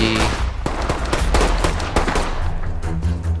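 Sustained gunfire in the tactical shooter Ready Or Not during a drug-house raid, a loud run of rapid, overlapping shots and bursts that continues for several seconds with little talk.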